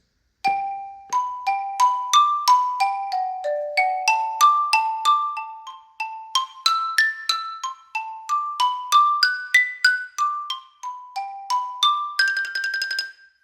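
Mallet keyboard etude played with two mallets striking near the center of the bars, a clean run of bright ringing notes in broken arpeggios with steady rhythm, ending in a quick tremolo roll, with no talking.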